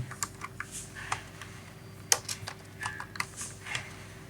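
Quick bursts of computer keyboard typing, close and fairly light, with uneven clusters of key clicks and short pauses between them.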